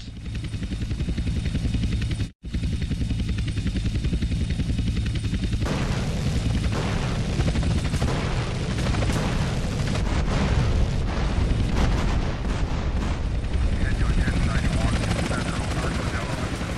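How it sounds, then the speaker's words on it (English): Agency helicopters attack in GTA San Andreas, their rotors a loud, steady drone, joined by dense bursts of gunfire and impacts after a brief dropout, with voices shouting over the din. "Two agency choppers coming in on an intercept."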